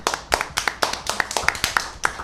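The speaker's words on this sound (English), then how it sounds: "let's get a hand claps for the real fathers in here" Scattered hand claps from a small crowd, about a dozen sharp uneven claps over two seconds, fairly close and loud with no talking.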